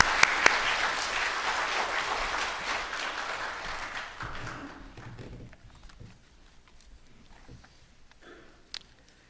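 A church congregation at a Sunday worship service applauds to welcome the preacher, a full round of clapping that is loud at first and then thins out and fades to a few scattered claps.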